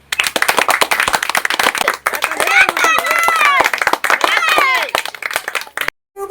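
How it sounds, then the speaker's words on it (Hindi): A small group clapping in rhythm during an Awadhi village comedy scene, sharp regular hand claps running under excited overlapping voices and shouting, loud and close, stopping abruptly near the end. "बजाओ ताली।"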